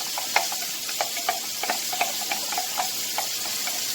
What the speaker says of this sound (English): all you're going to do is just stir, stir, stir